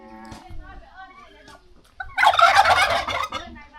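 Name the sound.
turkeys gobbling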